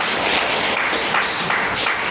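A church congregation claps for the Lord after a sermon on the resurrection, a short burst of steady, fairly close applause with no talking.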